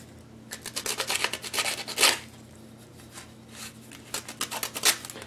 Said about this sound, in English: Maybe I can use some more aggressive sandpaper for that side initially to get these high slot points down.